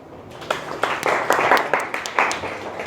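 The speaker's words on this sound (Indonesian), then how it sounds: "silakan beri aplaus untuk kelompok 3" Short round of applause from a classroom group for a presenting team, scattered hand claps starting thin and building into a moderate, uneven clatter for under three seconds.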